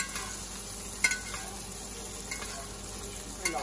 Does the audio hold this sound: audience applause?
no